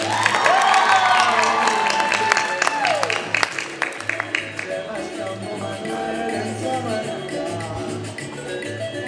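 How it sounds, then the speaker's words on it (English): At a school singing competition, an audience cheers with whoops and shouts over scattered clapping for a few seconds, easing as music with a steady low beat continues underneath. "An applause for her, please."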